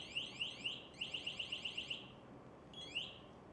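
A series of rapid, high-pitched electronic alarm chirps from an MSA G1 SCBA, clustered in quick bursts with a brief gap, then one more chirp after a pause.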